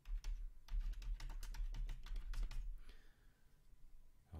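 Quick, uneven keyboard typing of an address into a computer map search, a run of close, crisp key taps that stops partway through, followed by quiet room tone.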